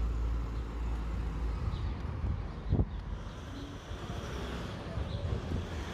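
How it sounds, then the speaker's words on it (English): A local city bus passes along a downtown street, with a low rumbling engine and road noise under wind buffeting and faint distant traffic, while a voice talks quietly. "And of course, the local bus."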